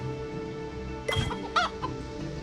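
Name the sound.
chickens clucking in the Family Farm Adventure video game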